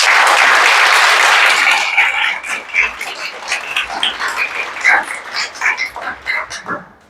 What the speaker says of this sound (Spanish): démosle un aplauso al Señor que está aquí.